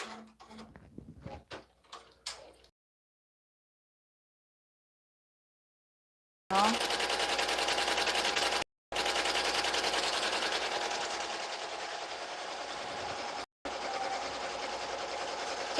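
A sewing machine named Willow stitches, first in a few short bursts, then after a silent pause it runs in long, steady, loud mechanical whirring stretches with brief stops between them.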